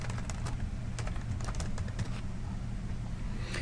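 Steady clicking keystrokes on a computer keyboard patter quickly and evenly for a few seconds, close up over a low constant hum, with no voices.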